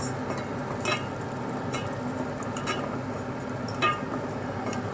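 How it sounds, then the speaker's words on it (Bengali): Steady sizzling of raisins frying in hot ghee, with occasional scrapes of a spoon stirring the pan. "কিশমিশ টোটালটা আমি ঘিতেই ভাজছি"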